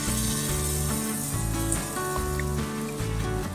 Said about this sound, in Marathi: तर आता आपले पॅनकेक होत आहेत